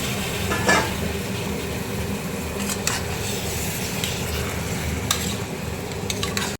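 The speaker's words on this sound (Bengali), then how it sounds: "খাসির মাংসটা দিয়ে দিচ্ছি" Mutton pieces go into a pan of hot oil with turmeric and salt for a dried red chilli mutton curry, giving a steady broad sizzle with a few soft stirring scrapes and clinks.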